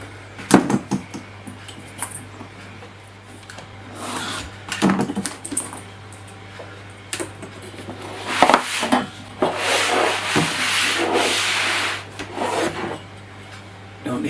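A mounted picture is trimmed to size with a blade, heard as scraping, rasping cuts in uneven strokes close by, with taps and a longer steady cutting stretch over a constant low hum.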